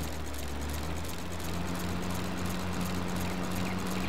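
Older-style tractor-pulled mower running and cutting grass in Farming Simulator 22, a steady droning engine hum with a constant low tone and faint rhythmic ticking throughout, no talk.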